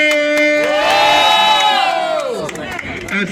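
A crowd at a rap battle cheers and shouts, a loud sustained roar of voices with a rising yell that peaks and fades over a few seconds.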